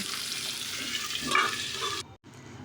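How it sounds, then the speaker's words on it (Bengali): Potato pieces fry in mustard oil with a loud steady hissing sizzle and a brief surge of stirring, then the sound cuts off abruptly and continues more quietly. "প্রথমে কিছু টুকরো করা আলু আমি সর্ষের তেলে ভেজে নেব"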